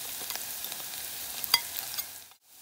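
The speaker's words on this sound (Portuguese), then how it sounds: "E agora vou colocar a cebola. E deixar dar uma douradinha e já volto." Chopped onion and garlic frying in a pan, a steady close sizzle with light stirring clicks and one sharper clack before it suddenly cuts out near the end.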